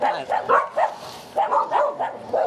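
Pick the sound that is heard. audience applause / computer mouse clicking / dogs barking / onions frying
dogs barking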